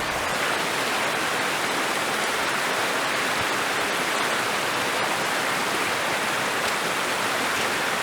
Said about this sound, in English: this little stream that has provided us with fresh water for drink and food making